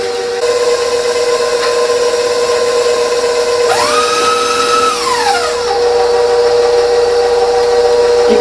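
Electric hand mixer whirring as it blends pudding mix powder into Cool Whip, a steady close motor whine with a pitch that climbs and then falls in the middle as the load changes.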